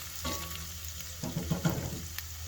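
Garlic meatballs sizzle in a hot pan on medium heat, with soft scraping and a crackling burst as they are stirred, close and fairly quiet.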